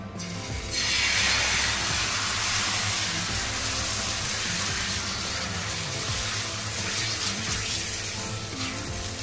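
Fasting dosa batter is poured from a small bowl onto a hot pan and sets off a sudden loud hissing sizzle that stays steady and continuous, close up, with no talking.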